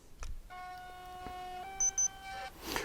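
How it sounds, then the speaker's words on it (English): A Yongnuo YN-568EX speedlight powering on gives a quiet electronic tone, a steady multi-harmonic hum about two seconds long with two short high beeps near its end, set in near silence. "it'll beep to tell you when it's powered up"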